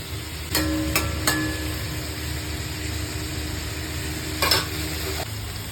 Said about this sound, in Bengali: এটা তেজপাতা দিয়ে দিলাম আমি এবার পেঁয়াজটা যে ভেজে রেখেছিলাম আর চিংড়ি মাছ ভাজলাম এটাকে সব একবারে দিয়ে দিলাম